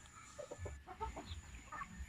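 Free-range chickens on a Philippine backyard farm cluck in a few short, moderately close bursts over a low steady background hum.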